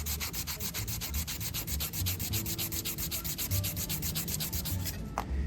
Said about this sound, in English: Sand this again.